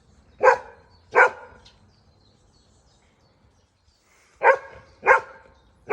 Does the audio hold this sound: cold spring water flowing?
no